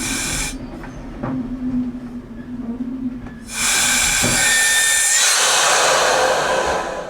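Vacuum brakes on a heritage railway train go to full application with a sudden loud hiss of air that starts partway through and keeps going, following a quieter stretch with a low hum.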